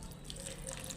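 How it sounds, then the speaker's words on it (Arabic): Water trickles from a tap, a faint steady splash with small drips as hibiscus is rinsed underneath. "لازم تغسليها ماء عادي من الحنفية"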